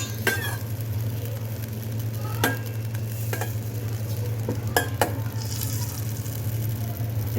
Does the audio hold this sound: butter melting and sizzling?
yes